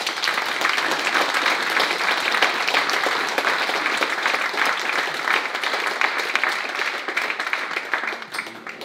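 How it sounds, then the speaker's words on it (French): Sustained applause from an audience honouring a speaker at a French church synod gathering, dense and steady clapping for about nine seconds, tapering slightly at the end. "on peut l'applaudir"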